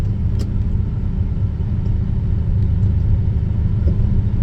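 A Lamborghini Countach engine runs warm on the road, a steady, fairly loud low rumble with mid-range texture and small bumps, no talking.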